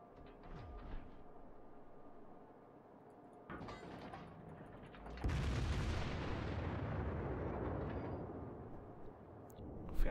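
Deep naval artillery booms from a Kongo battleship in World of Warships, a softer shot then a loud rolling salvo that rumbles on, with a sharp thump at the end.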